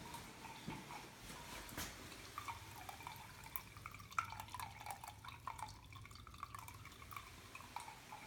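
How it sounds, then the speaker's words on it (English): Rainwater drips and trickles into a sewer through old exterior footing drain tile beneath a vacant house in Des Moines, Iowa, a faint, steady run of water with scattered small drips and no voices. "that is rainwater going into the sewer"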